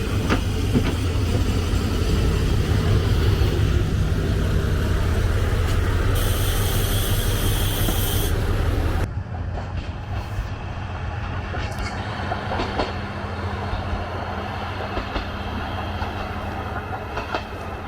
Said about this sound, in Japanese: 列車がやってきました。